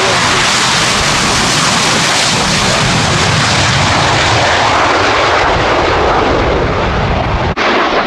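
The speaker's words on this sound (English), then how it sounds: "Still with the Rolls-Royce Pegasus Vector Thrust turbofan" Spanish Navy EAV-8B Harrier jet with a Rolls-Royce Pegasus vectored-thrust turbofan roaring steadily at display, a loud, continuous broadband engine blast filling the whole stretch with no talk.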